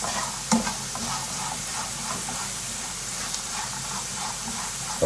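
Browned potatoes, just salted, are stirred in a frying pan for an Afghani breakfast. A constant close sizzle runs under scraping stirs, with a few sharper knocks of the utensil against the pan.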